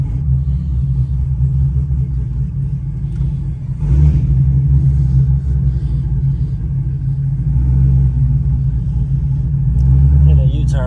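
A modified, cammed Chevrolet Camaro ZL1 engine idles with a deep, lumpy rumble and gives a few revs, loud and close, while a voice talks over it.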